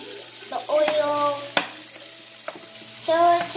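Pork and onion sizzle in hot oil while being stirred for a kangkong dish, with scraping utensil strokes, a sharp clack midway and crackling fry bursts, close and free of talk.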